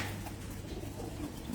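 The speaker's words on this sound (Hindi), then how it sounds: "काले मुंह वाला कबूतर है" A black-faced pigeon from Sialkot coos faintly on a rooftop in Abu Dhabi, its soft low notes barely rising above a murmuring background for under two seconds.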